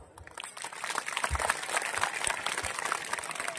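A crowd applauds at a public Shiv Jayanti celebration, a dense, steady patter of many hands that swells after the first half second and holds at a moderate level.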